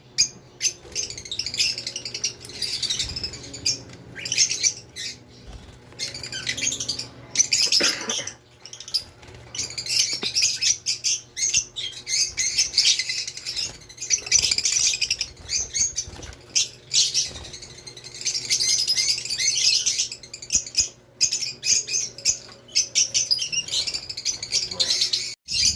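Birds in an aviary flutter and chirp constantly, with wings flapping and scratchy movement close by, and a steady low hum in the background.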